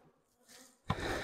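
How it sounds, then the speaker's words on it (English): Honey bees buzz close by at a hive, starting as a thin hum and swelling suddenly into a loud, dense drone. "You can always see bees coming up here."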